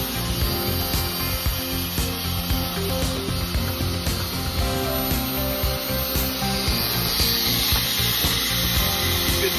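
An Arbortech Mini Grinder grinds away epoxy in tight spaces of an inlay set with branches and coral, a continuous close abrasive whir and rasping scrape with steady motor hum.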